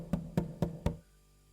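Four firm knocks land on a door at an even pace, each one sharp and close, and then everything goes quiet.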